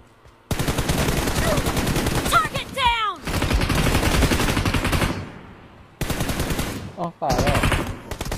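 Rapid automatic gunfire from a competitive online shooter game rattles in dense sustained bursts with short gaps, loud and close, while players talk over it.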